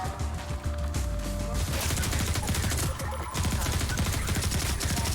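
Rapid gunfire blasting explosive barrels in Half-Life 2 on the Route Kanal chapter, dense bursts of shots and booms running continuously and loud throughout.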